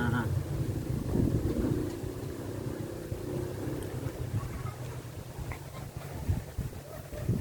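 A large coconut husk grinding machine runs in a coir-making workshop, giving a steady, loud low drone with rumbling mechanical texture that continues throughout.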